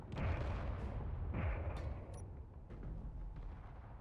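Turrets firing in the Space Engineers video game, heavy booming bursts in a loud, rolling barrage that eases slightly partway through, with sharp cracks scattered on top.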